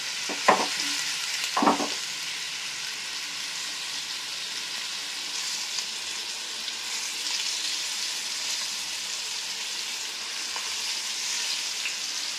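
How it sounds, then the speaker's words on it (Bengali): Potatoes frying in oil in a home kitchen, a steady loud sizzle throughout with two short stirring or scraping knocks near the start and no talking. "এবার আলু ভাজা চলছে।"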